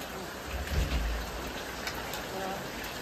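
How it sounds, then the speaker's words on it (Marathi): Heavy rain falls steadily, a dense continuous hiss with a brief low rumble near the start, moderately faint. "आणि पाऊस बघा एकदम जोरात चालू आहे."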